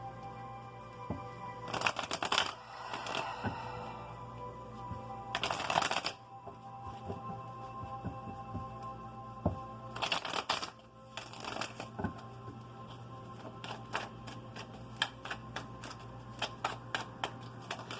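A deck of tarot cards shuffled in several separate bursts of rapid riffling and flicking, with light taps and card snaps between them, close and fairly quiet, no talking.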